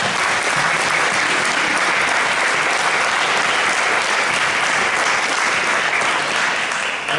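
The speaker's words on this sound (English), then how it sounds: "Let's give them a round of applause." A school board meeting audience gives the assistant principals a round of applause, loud sustained clapping from many hands that holds steady throughout, with no talking.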